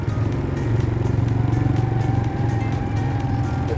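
Four-wheeler quad bikes riding into sand dunes on a guided tour, a loud, steady engine drone with low rumble and wind buffeting, close and continuous throughout.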